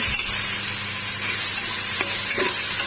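Tomatoes sauté in a hot pan with a loud, steady sizzle and hiss. Occasional stirring scrapes rise above the frying throughout.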